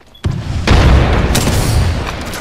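A video-game grenade goes off in one sharp boom, then a loud, sustained rumbling roar of debris and blast noise that keeps going to the end.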